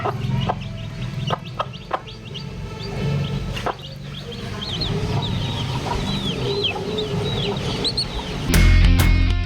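A mother hen clucks repeatedly to her chicks in a farmyard in Thoothukudi, steady close clucking with chick peeps mixed in, and a louder burst of noise near the end.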